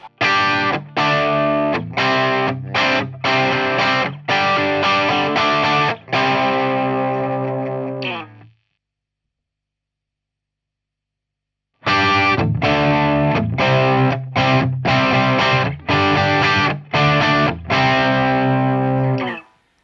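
Loud distorted electric guitar through a Blackstar Series One S1 50 amp's crunch channel with the resonance control fully closed, repeated strummed chords and muted chugs, stopping briefly before the same riff returns.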